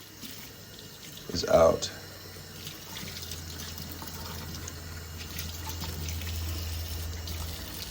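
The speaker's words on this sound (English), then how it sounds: "Make sure it's thoroughly rinsed to make sure all of the soap" Running tap water rinses a part of a Ninja NeverClog cold press juicer in a sink, a steady faint stream with a brief louder splash early on and a few spoken words.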